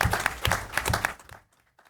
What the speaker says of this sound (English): I wonder if we can give him another round of applause